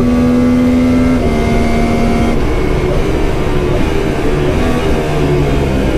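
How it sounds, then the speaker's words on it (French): Formula 4 single-seater on a race circuit, its engine droning loud and steady throughout with pitch steps as gears shift under braking, harmonic whine dropping and rising again. "Oh le freinage. Oh le passage de vitesse, j'ai eu du mal."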